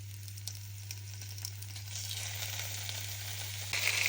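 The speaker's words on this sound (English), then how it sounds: "I'm going to put the bacon in now. It's nice thick bacon." Thick bacon sizzling as it fries in a pan, a faint, steady crackling hiss that grows a little brighter near the end, with no talk over it.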